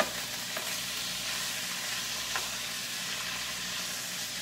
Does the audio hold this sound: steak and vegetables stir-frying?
yes